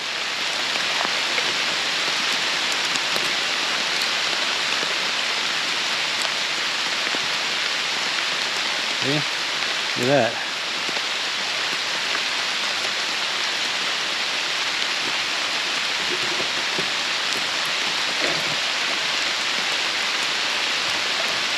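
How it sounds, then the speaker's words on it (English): Hail coming down hard outdoors gives a dense, continuous hiss of pelting ice, loud and unbroken, with a short spoken remark partway through. "It's actually hailing."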